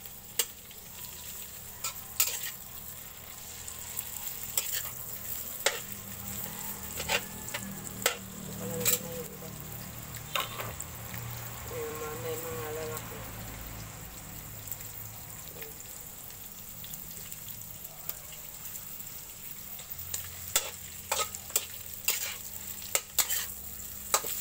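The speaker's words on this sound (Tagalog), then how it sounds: "Ito ilagay ko na. Gigisa ko na to. Yung chicken flakes." Chicken flakes sautéing in a pan for pancit guisado, a soft continuous sizzle broken by repeated sharp clinks and scrapes of a spatula against the pan, fairly quiet and close, with no talking.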